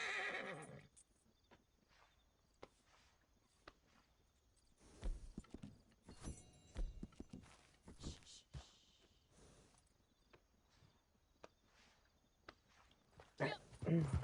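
A horse whinnies and snorts amid scattered hoofbeats and game-like sound effects, with intermittent bursts of noise throughout.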